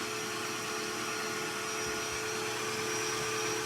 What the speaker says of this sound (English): Giving that a good old whisk until all lumps and bumps and everything else are out.